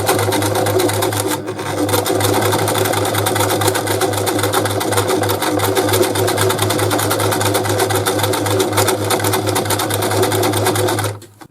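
A Brother Boutique 30 electric sewing machine runs steadily through a decorative swan stitch, its motor humming loudly and evenly with a fast needle rattle for about eleven seconds before stopping abruptly, with no talking.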